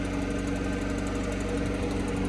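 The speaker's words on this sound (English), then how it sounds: "you can hear the generator running and stepped up its RPMs to keep up" A generator engine running under load, RPMs stepped up, gives a steady drone with a rhythmic low knocking pulse, running continuously and evenly loud throughout, with no voices.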